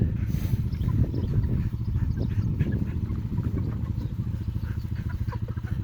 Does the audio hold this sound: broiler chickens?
yes